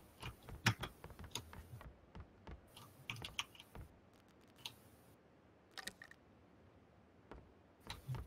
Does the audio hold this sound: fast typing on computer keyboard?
yes